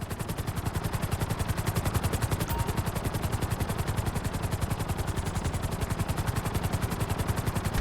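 A helicopter in GTA 5 flies with a loud, close, rapid rotor chop, an even thumping pulse that holds steady throughout and plays alone without talk.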